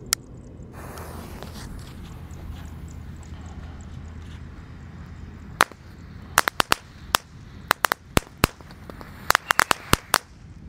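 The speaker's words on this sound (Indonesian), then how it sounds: "Lanjut di sini ada mercon tank tor guys." A tank-type firecracker is set off outdoors. A low fizzing hiss builds first, then a rapid series of sharp, loud cracks and pops follows in an irregular burst toward the end.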